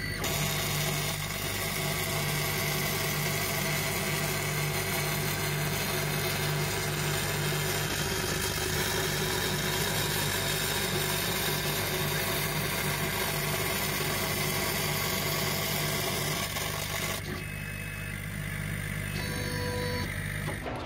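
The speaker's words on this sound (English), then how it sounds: "So excuse the noise in the background, that's just the 3D printer." A 3D printer runs steadily nearby, giving a constant mechanical whir and hum with stepper motor tones that hold for the whole stretch and shift slightly near the end.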